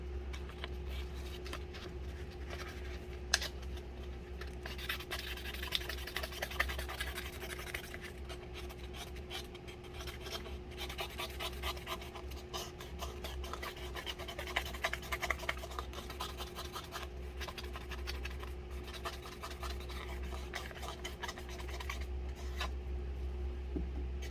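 Leather edge sanded with fine 1500 grit sandpaper: a soft, continuous scratchy rubbing, faint and steady, with a low hum behind it.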